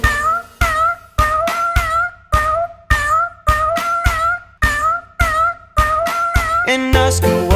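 A steady run of about a dozen evenly spaced, tuneful cat meows, each with a rising-then-falling pitch, set in a children's nursery rhyme about a farmer's cat, ending in a brief musical flourish.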